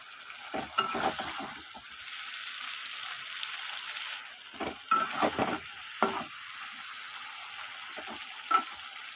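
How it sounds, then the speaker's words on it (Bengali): Curry stir-fries in a pan with a soft, steady sizzle, broken by intermittent scraping strokes of a spatula, fairly quiet and close, with no talking. "সেই জন্য এটাকে ভালো মতো কষিয়ে নেবো"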